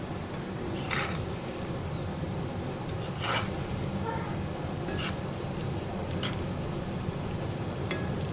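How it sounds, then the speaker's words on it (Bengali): Potato sticks frying in medium-hot oil for homemade french fries, a constant soft bubbling sizzle with a few sharper crackles and clinks, fairly quiet and steady throughout. "দেখুন দিয়ে দিয়েছি তেলের ভিতর আলুগুলো, মিডিয়াম আছে ভেজে নেব"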